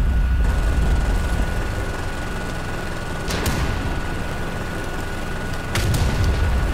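Tank cannon fire and explosions in a WWII Soviet roleplay video game: a dense rumbling battle din with two sharp, loud blasts roughly three seconds apart, no talk.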